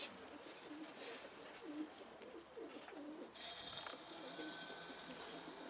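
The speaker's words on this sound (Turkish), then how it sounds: "bir tane Hint güvercini yakalamış. Horoz güvercini." Soft, low pigeon coos repeat in short rhythmic phrases, faint and close, over a steady background hiss.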